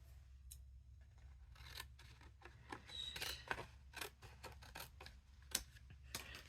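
Scissors cut through a thin sheet of acetate with a string of soft, uneven snips close by. The snips sit over a quiet low hum in a calm room.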